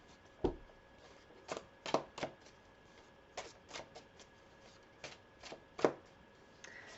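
Tarot cards are shuffled and drawn, giving a handful of sharp, separate snaps and riffles spaced irregularly over a quiet background.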